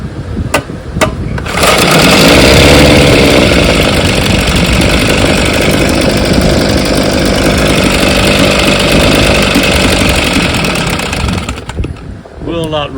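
A 1964 Evinrude 5.5 HP outboard engine with a faulty carburetor runs loudly and continuously up close, holding a steady buzzing roar for about ten seconds before easing off, with a few clicks at the start and end.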